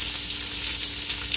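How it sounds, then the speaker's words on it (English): Sliced zucchini hits a hot pan for shrimp chow mein and sizzles steadily and loudly, a dense bright hiss with no talking over it. "So here I'm gonna add my zucchini."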